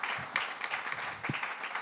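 Audience at a foundation panel event applauding with a brief, steady patter of clapping, fairly soft and even.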